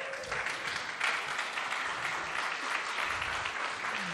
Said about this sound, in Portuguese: Então aplaude.